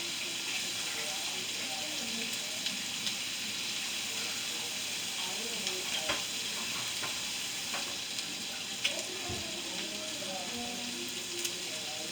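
Seasoned ground beef being mixed in a pan for shepherd's pie gives a steady, even sizzle with light scraping and stirring clicks throughout, close and moderately loud with no talking.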